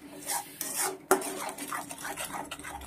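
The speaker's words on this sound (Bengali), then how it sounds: "ভালো মতন কষে নেব মশলাটা।" A spice paste with chilli powder being stirred and fried in a pan, with rhythmic scraping and rubbing strokes of a spoon over a soft sizzle and one sharp clack against the metal.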